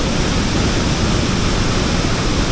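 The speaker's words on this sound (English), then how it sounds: "you can really hear the power of the waterfall" A powerful waterfall in Baños, Ecuador roars as a dense, steady rush of water, loud and unbroken throughout.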